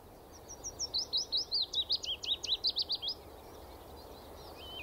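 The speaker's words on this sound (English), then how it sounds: "A willow warbler." A male willow warbler sings a single sweet, descending run of about a dozen clear, evenly spaced high notes lasting two seconds, at dawn in its territory, moderately near against quiet ambience.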